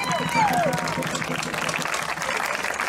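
A crowd applauds steadily throughout, broadband clapping filling the clip, with a faint whistle or cheer near the start.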